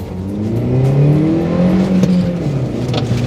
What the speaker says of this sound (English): Driving the Holden Barina.